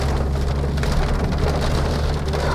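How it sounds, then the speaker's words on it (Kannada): Heavy rain pours down at night in Bandipur Forest in a dense, constant roar, close and loud, with a low rumble underneath. "ಅಯ್ಯಪ್ಪ ಏನು ಕ್ರೇಜಿ ಮಳೆ ಗುರು"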